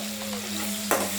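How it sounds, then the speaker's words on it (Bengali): Chopped garlic fries in oil in a pan for a desi chicken stew, giving a steady close sizzle with a louder spatter burst near the end. "এগুলোকে এখন খুব ভালোভাবে ভেজে নিতে হবে"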